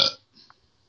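A short, loud burp bursts out at the start and fades within a fraction of a second, followed by a faint second gurgle, close to the listener in a quiet room.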